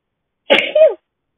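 A single sharp sneeze, close and loud, bursting out in two quick parts and then silence.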